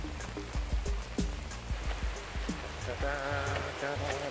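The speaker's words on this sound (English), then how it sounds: "Walking through the glens and it's quite rainy." Rain patters steadily on a nearby surface in the Gortin Glens forest, with irregular heavier drops knocking close by throughout.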